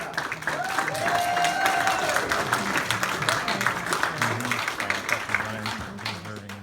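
Graduation audience claps and cheers for a physical therapist graduate being called up, steady applause with a whoop or two, carrying on under background music throughout.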